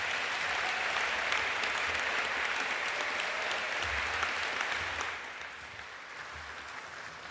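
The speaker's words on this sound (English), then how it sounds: "will my fellow graduates please join me in acknowledging yourselves, each other, and all of the people who have supported our journey here today with a big round of applause." Graduates and guests at a graduation ceremony applaud in a broad, sustained roar of clapping that fills the hall, then thins slightly and continues more softly toward the end.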